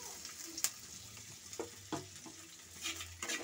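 Chopped garlic and ginger fry in oil, a faint soft sizzle broken by a few sharp crackles and pops, heard close without any voices.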